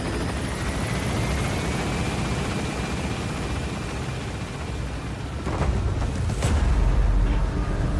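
Military helicopter in Metal Gear Solid V lifting off and gaining altitude, a steady loud rotor roar that grows heavier and closer near the end, with no voices over it.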